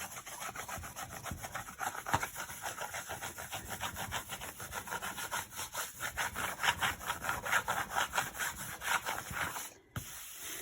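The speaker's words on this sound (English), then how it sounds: "I'm just leaning it on my board and rubbing it" A plaster tool leaned on a Venetian plaster art board and rubbed back and forth, giving close, continuous rhythmic scraping strokes that swell and fade in quick succession before stopping abruptly near the end.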